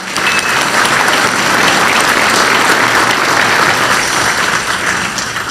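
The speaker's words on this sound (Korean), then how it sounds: "다시 한번 박수 부탁드립니다." Loud, sustained applause fills a government meeting hall in South Korea as a large audience claps continuously without letup.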